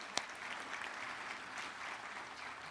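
Staff awards audience at a university ceremony gives a round of applause, a fairly faint, steady patter of many hands after one sharper clap at the start.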